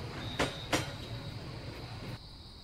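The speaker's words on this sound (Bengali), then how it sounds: "এমন সময় ট্রেনের হুইসেলের শব্দ শুনতে পাই। আমার ট্রেন এসে গেছে।" A cartoon sound effect of a night train arriving: two sharp clattering bursts are followed by a thin, steady whistle-like tone and a low rolling rumble, all fairly faint and ending abruptly.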